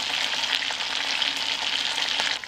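Browned meat sizzles in a pot with halved onion, garlic cloves and dried rosemary, a loud, continuous frying crackle with stirring clicks throughout that drops slightly near the end, no speech.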